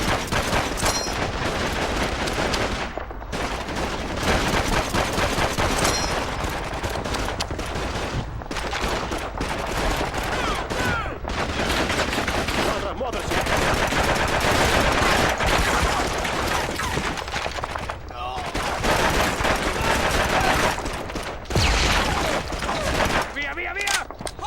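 Gunfire in the Call of Duty 2 video game during a dark night battle, dense overlapping rifle and machine gun bursts with short lulls, loud and continuous, with a person talking over the shooting.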